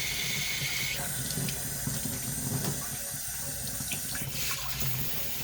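Tap water runs steadily into a sink, flushing an HP 920 printhead; a constant close hiss of the stream shifts slightly as the printhead is moved under the flow.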